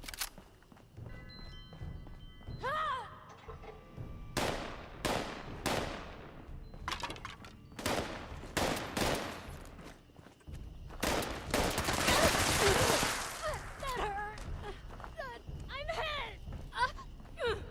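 Gunfire in the Fallout 76 video game, with bursts of shots and rapid automatic fire mixed with explosions, rising to a dense barrage near the end, while a voice talks throughout.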